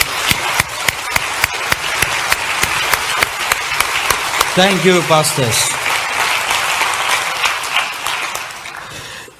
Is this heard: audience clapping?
yes